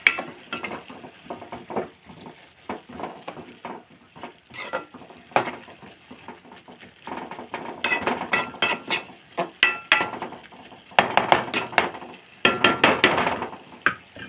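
A spatula stirs a spinach stir-fry with green chilies in a pan, clattering and scraping in irregular bursts that grow busier and louder toward the end.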